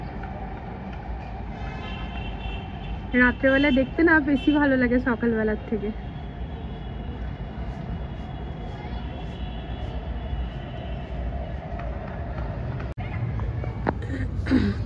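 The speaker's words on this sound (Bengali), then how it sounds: "আর ওই যে দেখো আবারও মেট্রো যাচ্ছে" A metro train rumbles past in a steady low roar, with someone talking briefly over it.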